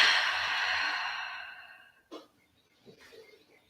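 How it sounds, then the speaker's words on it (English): A long, slow exhale during a yoga pose, loud and close, fading out over about two seconds and followed by a couple of softer, shorter breaths. "deep, long, slow breaths"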